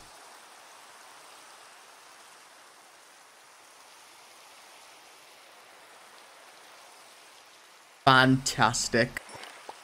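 Soft, steady rain patters in Minecraft, a constant faint hiss of falling drops. A voice breaks in briefly near the end.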